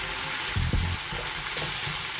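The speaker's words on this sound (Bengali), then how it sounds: "জলটা শুকিয়ে গেছে, এখন আর একটু জল দেবো, দিয়ে আবার কষাবো।" Prawn masala sizzles in a pan after a splash of water, a dense hiss broken by a few scraping stirs.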